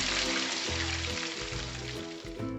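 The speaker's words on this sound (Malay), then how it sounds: "Masukkan cili kisar dan tumis sehingga cili garing dan berwarna gelap." Loud, constant sizzling of ground chili paste frying in a hot pan until crisp and dark for mee goreng, a dense crackling hiss with faint low clunks of stirring underneath.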